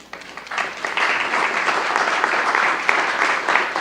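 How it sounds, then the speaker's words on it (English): A crowd applauding steadily for several seconds at a judicial investiture ceremony, a dense wash of clapping that swells quickly and holds at a fairly loud, even level. "we will clap for her"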